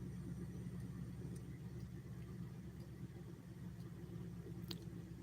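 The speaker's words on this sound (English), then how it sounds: "You can hear his exhaust." A steady low engine rumble from a car idling nearby, constant throughout with no talk.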